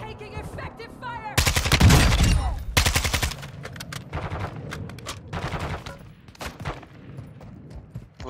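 Bursts of automatic gunfire in a multiplayer shooter match against bots, loud rapid volleys clustered in the first few seconds, then scattered shots continuing underneath with faint voice chat.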